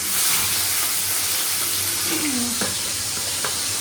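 Fish frying in oil in a home kitchen pan, a steady close hiss and sizzle running throughout with a few soft clicks of utensils.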